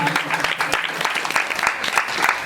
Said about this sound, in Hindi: एक बार तालियां बजाएंगे जरा अपने माँ पिता के लिए।